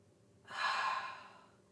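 A single long exhale during a yoga flow, rising into a soft breathy rush after a quiet start and fading gradually over about a second, close and alone with no talking.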